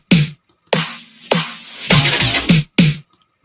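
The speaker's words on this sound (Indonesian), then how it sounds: "di bagian awalnya ini saya pakai fill drumnya seperti ini" A drum fill in a music production project plays as a quick run of six or seven sharp, close hits with crisp attacks. The hits come in an uneven rhythm with short gaps, and no voices are heard.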